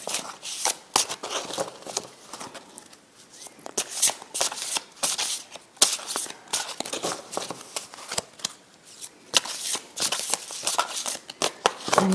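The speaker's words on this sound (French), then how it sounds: "on va tirer une petite carte, un petit message des anges" Oracle cards are shuffled for an angel-message reading, with brisk, crisp riffling and flicking bursts that repeat close up for the whole stretch, and no one talks.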